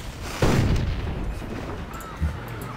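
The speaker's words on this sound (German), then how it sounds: "Kanone haut drauf." A heavy cannon boom with a lingering rumble, followed by a second, softer thud a couple of seconds later, set against steady game background noise, from artillery fire in Civilization 5.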